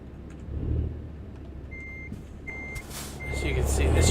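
Reversing beeps from an International Eagle truck in American Truck Simulator: three short evenly spaced electronic beeps sound over a low engine rumble that swells toward the end.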